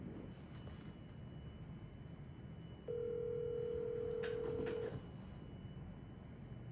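A telephone redialing an earlier disconnected call gives a steady two-second tone after a quiet start, with a few short clicks near its end, all faint against low room noise.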